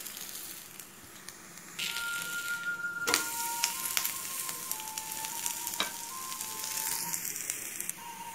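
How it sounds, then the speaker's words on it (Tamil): Keerai adai fries in sesame oil on a hot griddle, a steady close sizzle starting after a quiet opening, with occasional sharp clicks and a faint tonal whine running through. "கல் காஞ்சிடுச்சு, நல்லெண்ணெய் ஊற்றிப்போம். இப்போ இதை சுற்றி எண்ணெய் விட்டுக்குங்க."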